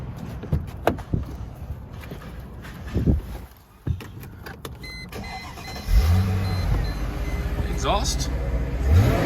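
A 2001 Mercedes E55 AMG sits on a lift. A few clicks and knocks come first, then the engine cranks and catches about two-thirds of the way through. It settles into a loud, steady idle close by.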